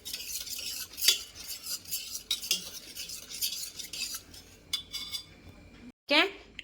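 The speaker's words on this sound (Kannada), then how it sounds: "ಚೆನ್ನಾಗಿ ಸೌಟಲ್ಲೇ ಮಿಕ್ಸ್ ಮಾಡಬೇಕು" A metal ladle stirs a thick sambar mixture for a wedding-style meal in a pot. It scrapes and clinks repeatedly against the vessel up close, with a brief pause near the end before one more sharp scrape.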